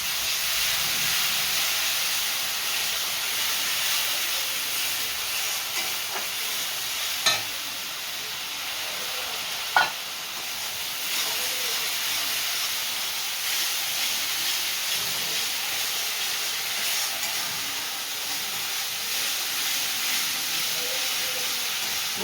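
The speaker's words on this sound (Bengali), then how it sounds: "একটু জল দিয়ে কষিয়ে নেব।" Spices sautéing with a splash of water in a pan, a steady broadband sizzle and hiss that holds throughout, with two brief sharp clicks of a spoon or spatula against the pan partway through.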